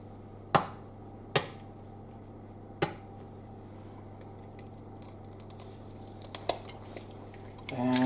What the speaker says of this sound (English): we're going to start out by putting a cube into our pan